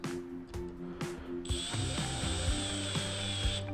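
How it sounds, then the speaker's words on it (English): A power drill drives screws in short bursts with ratcheting clicks, close by, during furniture assembly, then settles into a steady high-pitched whine. "I'm going to use a drill"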